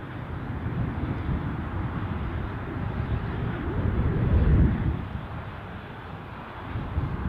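An Embraer aircraft taxis to park at Newcastle airport, a steady low engine rumble and whine at moderate distance with some wind buffeting, swelling briefly before easing off.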